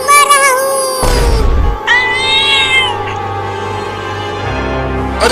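A cartoon kitten gives several high, drawn-out meows in a Hindi comedy cartoon, loud and close, followed by a low sustained tone and a softer sound at the end.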